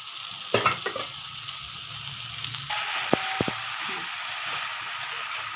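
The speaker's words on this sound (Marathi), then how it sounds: "याला आपल्याला असं छान असं मिक्स करून घ्यायचं आहे" Torn chapati pieces are tossed and mixed in a pan for a quick crumbled-chapati churma recipe, making a soft steady frying hiss with a few clinks and scrapes of the spoon, close by and moderately quiet.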